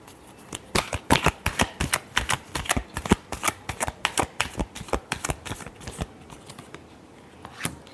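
Tarot cards shuffled by hand for a Leo reading, a fast run of crisp riffling flicks and slaps, close and fairly loud, with no talking.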